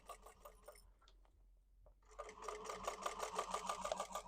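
A sewing machine stitches a purse seam in rapid, even bursts, pausing briefly before resuming a steady, close-up whirring run of stitching with no talk.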